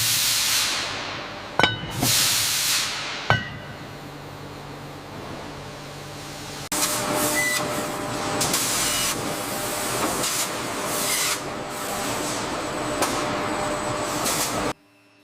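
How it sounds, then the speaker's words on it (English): Factory machinery hisses and rumbles as a hydraulic press forms a flat steel disc into a deep pressure cooker pot, with sharp impact clanks early, then a dense continuous mechanical roar that stops abruptly. "the hydraulic press descends, transforming the flat steel disc into a deep, cylindrical pot"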